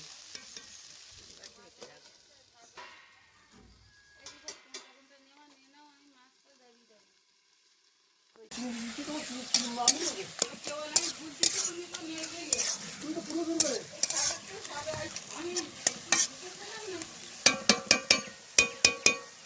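Salted moringa leaves are stirred in a pan for a dry leaf mash, with quiet clinks and shuffles first, then busier, louder scraping and sizzling with sharp utensil knocks against the pan, close by.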